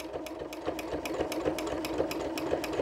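A quilting sewing machine stitches at a steady rapid pace, its needle ticking in an even rhythm over a low motor hum, close and moderately quiet, with no voices.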